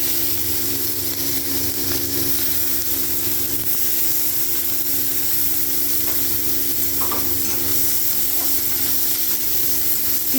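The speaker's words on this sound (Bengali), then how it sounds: "পেঁয়াজগুলো হালকা একটু ভেজে নেড়ে নেওয়ার পর" Chopped onions frying in a pan with nigella-style five-spice, dried chilli and poppy seed for a rui posto dish, being stirred: constant close sizzling with intermittent scraping stir sounds, no talking.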